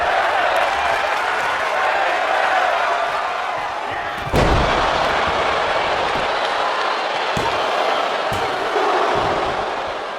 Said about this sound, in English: The crowd is on its feet, cheering Niven on as she senses her chance to take control of the match.